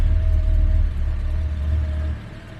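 A Jaguar XJ6 engine, a daily driver with a misfire, idles at 800 RPM in a steady low rumble with a faint whine above it, close and continuous, easing slightly in level toward the end, with no talk.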